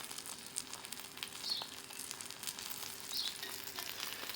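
A5 Japanese ribeye steak sizzles in a pan as its fat renders out. The frying is steady and fairly quiet, with a few brighter pops and spits rising above the hiss and no voices.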